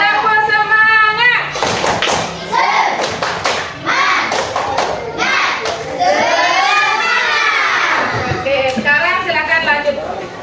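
Schoolchildren in a classroom perform the 'tepuk semangat' spirit clap chant: rhythmic, close claps and thumps mixed with loud, chanted young voices that fill the whole stretch.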